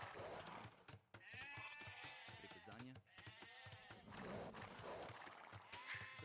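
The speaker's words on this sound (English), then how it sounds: "There's scattered sheep." Several sheep bleat in an Age of Empires 2 game, short wavering calls repeating over a few seconds, mixed with horse whinnies and clip-clop hooves from the game, faint overall.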